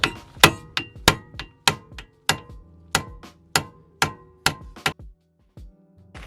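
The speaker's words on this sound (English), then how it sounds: "you just come in here with a hammer, whack on the end" Sharp metallic hammer whacks land on the end of a bolt removal tool during car repair on a Mini, about fifteen hard, ringing strikes in an uneven rhythm, loud and close, with no talking.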